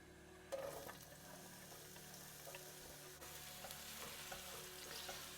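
Onions added to hot oil in a pan, a soft continuous sizzle and frying crackle after a brief clunk at the start, faint and steady throughout with no talk.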